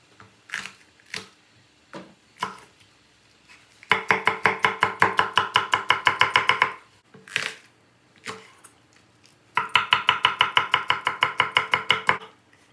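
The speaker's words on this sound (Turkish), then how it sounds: "Sebzeleri de doğradık." Rapid knife chopping of vegetables on a cutting board for an eggplant dish, coming in two long rhythmic bursts with a few scattered single cuts between them, close and clear.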